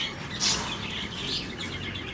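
Pet parakeets, or lovebirds, chirp in short bright tweets close by, with one louder call near the start and softer chatter continuing over steady background hiss.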